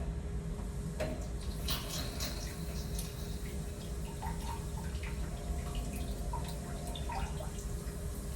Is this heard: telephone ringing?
no